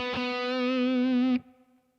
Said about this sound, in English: The first licks you hear at the beginning of the first guitar solo sound like this.